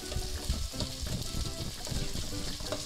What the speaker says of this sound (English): Let's give that a nice mix.